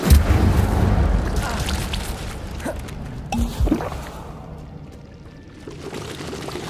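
A fire spell in Hogwarts Legacy bursts out with a loud, rushing whoosh and then a crackling, roaring blaze. The flames fade gradually, and a few muffled thumps are heard along the way.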